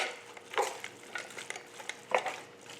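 Kale and turnip greens with onions and bacon get stirred in a pot, giving soft irregular scrapes and rustles with a couple of sharper utensil clinks, close up over a faint sizzle.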